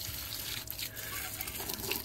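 Water pours and splashes steadily over parts from a vintage SEMP TV being washed, a close, continuous rushing spray without pauses.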